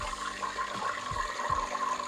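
Hot oil with some water content bubbles and sizzles in a pan on an infrared cooker, a steady close rushing hiss with faint low pops.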